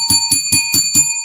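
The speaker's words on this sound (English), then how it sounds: "Let's ring the bell for Reflect the Sun" A small bell is struck five times in an even, quick rhythm, each ring bright and ringing close and loud, marking a super chat during a live football talk stream.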